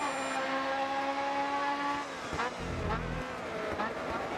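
A race car in GRID Autosport drives with a steady, whining engine note that drops off, followed by a rough low rumble and tire noise, fairly loud throughout.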